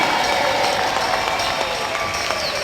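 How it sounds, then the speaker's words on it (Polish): Studio audience applause on a Polish children's TV game show, a steady dense roar of clapping that fills the whole moment at close range. "Wielkie brawa dla niej"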